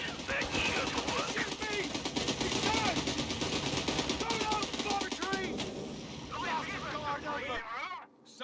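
Machine gun fire in the World War II strategy game Company of Heroes 3, rapid bursts of gunfire and distant battle noise running continuously under game voice lines and talk.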